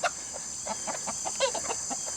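Chicken hens cluck softly in a run, with short irregular clucks from nearby birds over a steady high hiss of background noise.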